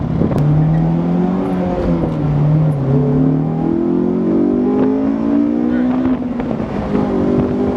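A 2005 Honda S2000's engine revs hard as VTEC engages, and the tone climbs in a sustained, loud, rising whine. It sounds close and fills the clip without any break.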